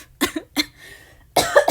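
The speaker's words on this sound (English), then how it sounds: "I just breathed out really hard and then I had to cough." A person coughs close up in three sharp bursts: two short ones close together, then a longer, harsher cough after a brief pause.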